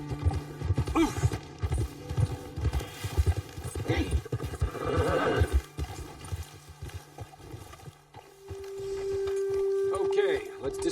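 Horses in Red Dead Redemption II clop along with busy hooves and whinny now and then, while someone speaks and a musical drone comes in near the end.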